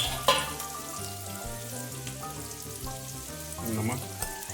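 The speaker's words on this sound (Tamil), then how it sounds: "प्याज फ्राई होने के लिए, ज़्यादा नहीं दे रहे हैं, जल्दी फ्राई होगा इससे." Onions fry in a pan for a mutton biryani, giving a steady, close sizzle with stirring throughout. Tonal layers that sound like background music run underneath.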